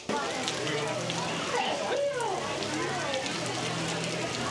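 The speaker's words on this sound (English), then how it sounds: "It is enthusiastically raining right now" Heavy rain pours steadily at Epcot, Walt Disney World, a dense hiss of drops drumming on surfaces close by, continuous throughout with faint background sounds.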